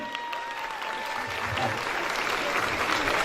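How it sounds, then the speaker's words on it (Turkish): An audience at a 2022 university graduation ceremony in Kocaeli bursts into applause, a dense, steady clapping that swells slightly and carries on throughout. "Onları bir alkışlayalım."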